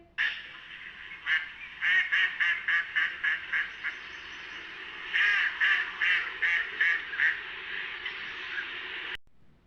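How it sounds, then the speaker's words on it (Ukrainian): Domestic ducks quack in quick repeated series, loud and close, with a brief pause midway before another run of quacks. "Качки крякають."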